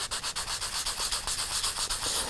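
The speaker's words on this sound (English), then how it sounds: "If I take the white side of my reliefing block and sand away, it removes some of the oxidation on the higher level of the blank" Steady rhythmic rubbing as an embossed metal blank is sanded with the white side of a reliefing block, each stroke a bright hissing scrape in a continuous back-and-forth pattern, close and fairly loud.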